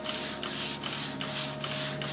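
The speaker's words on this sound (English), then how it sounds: "Little shiny spots that just might need a little extra sanding." Sandpaper is rubbed by hand over an old wooden dresser in steady back-and-forth strokes about every 0.4 seconds. The gritty scratching is close and fairly quiet, with a faint hum behind it.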